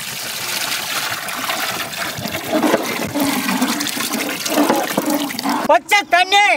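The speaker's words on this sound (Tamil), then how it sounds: "புளி தண்ணி," Tamarind water pours and splashes steadily into a pot for fish curry for several seconds, and a voice briefly speaks at the end.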